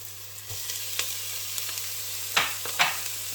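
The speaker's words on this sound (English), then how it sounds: "Just give that a good stir and just let it fry just for a couple of minutes." Onions, garlic and ginger sizzle gently in a pan while a spoon stirs them, leaving a soft steady crackle broken by a few scraping strokes.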